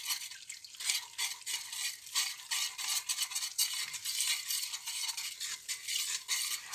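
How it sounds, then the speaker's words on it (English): Curry spices fry in a pan, a continuous close sizzle broken by the rhythmic scraping of stirring, with no voices. "when cooking curry or with any curry powders or spices, you've got to let it fry off"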